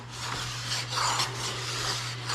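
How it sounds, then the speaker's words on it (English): A hand file rasps along steel ski edges during sharpening, in steady, close, continuous strokes with a constant low hum underneath and no talk. "Grab the file again, and this time I'm not going to do the Sharpie just because we have the feel now."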